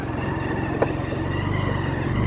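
A motor runs steadily with a low, even drone throughout, and a brief sharp knock sounds partway through over the continuous hum.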